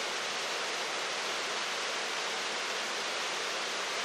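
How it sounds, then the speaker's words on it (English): A waterfall cascade in a Western Massachusetts ravine makes a steady broadband rush of falling water, continuous and even throughout with no other sounds. "In short order, you get a glimpse of the cascade just up ahead on the right."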